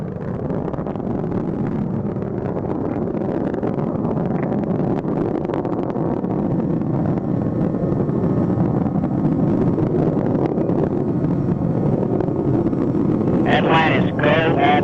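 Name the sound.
Space Shuttle Atlantis main engines roaring during launch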